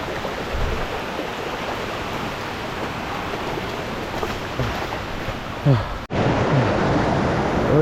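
River water washes over a trail that runs straight through the riverbed, a broad continuous rushing with faint splashes and footsteps in the water, broken by a short bump and a sudden dropout near the end.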